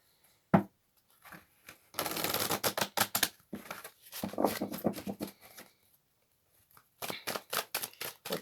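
A deck of tarot cards gets shuffled up close in quiet bursts of crisp riffling and flicking, one sharp snap, then a long run of dense shuffling, a pause, and more shuffling.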